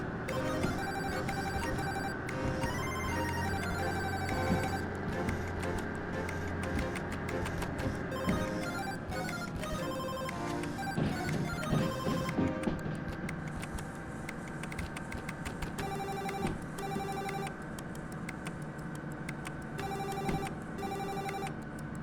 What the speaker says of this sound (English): it is literally just made of sounds that you would hear in an office. So there's a phone ringing, typewriters, or keyboards clacking.